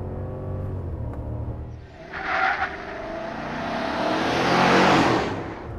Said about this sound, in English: Yuri, floor it for me